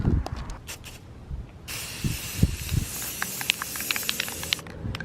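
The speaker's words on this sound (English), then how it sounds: "time to spray this bad boy." Red spray paint hisses from an aerosol can onto taped-up scooter pegs in short bursts, then a longer steady spray, close and fairly loud, with small clicks and rattles between passes.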